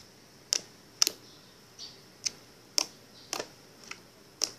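Thick, glossy mint-green slime gives off sharp, close clicks and pops as it is squished, coming in about eight separate bursts spaced at uneven intervals with quiet between them.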